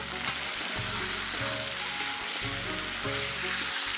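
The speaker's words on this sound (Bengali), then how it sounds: "এবার আলুটা দিয়ে দেব। আলু খুব ভালো করে নেড়ে নেব।" Potatoes and mutton fry in oil in a pan, a steady close sizzle broken by rhythmic scraping stirs roughly every second.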